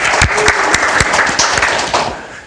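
A conference audience applauds a speaker, a loud, dense burst of clapping with a few distinct sharp claps standing out, tapering slightly toward the end.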